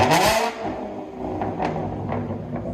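A Ford Mustang 3.7L V6 with a six-speed manual and dual straight-pipe exhaust with X-pipe revs loudly up close, a strong opening burst easing into a rough, rumbling idle with a few sharp blips of the throttle.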